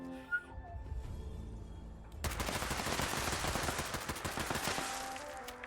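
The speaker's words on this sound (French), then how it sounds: "Ça j'aime bien quand l'arme tire comme ça." Rapid automatic gunfire from a weapon in the video game Fallout 76 bursts in after a quiet opening, a dense run of loud, close shots that slowly thin out toward the end.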